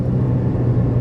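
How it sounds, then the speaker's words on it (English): A Proton Persona with a manual gearbox holds its engine at high revs during a downshift, giving a steady, loud low rumble and whir that stays level for the whole moment, with no talk over it. "I try to downshift and I'm on high RPM"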